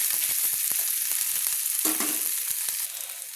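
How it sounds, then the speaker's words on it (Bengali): Chopped green chillies frying in oil, a bright continuous sizzle with quick taps and scrapes of a spoon stirring close by, fading slightly toward the end. "কাঁচা লঙ্কা কুচিয়ে দিয়েছিলাম, দিয়ে ভালো করে আমি তেলের মধ্যে কষিয়ে নিচ্ছি।"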